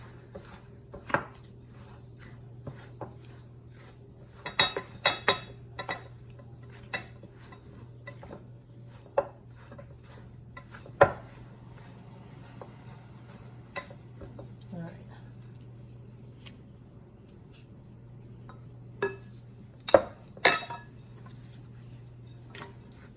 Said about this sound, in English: I'm just going to use the spoon as long as I can before I have to use my hands, so if I can really scrape all the flour off of the side of the bowl there.